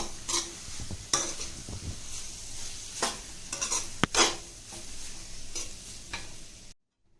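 Vegetable fried rice stirred in a pan over a high flame, with a steady sizzle and repeated scraping, clattering strokes of the utensil against the pan, close and fairly loud, ending abruptly.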